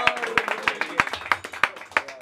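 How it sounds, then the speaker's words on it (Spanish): A small group claps along at a birthday party with a youth mariachi band, producing loud, crisp hand claps in a steady, regular rhythm close by, with faint voices underneath. "Ese aplauso bien bonito"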